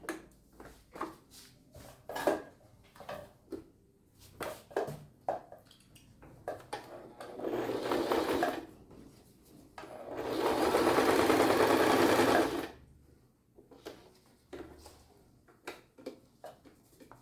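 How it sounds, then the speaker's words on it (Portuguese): A sewing machine runs two sustained bursts of stitching along the edge of bagum fabric, separated by short clicks and handling taps of the machine and cloth, with no talk. "vamos passar uma costura bem na borda aqui, ó, em volta"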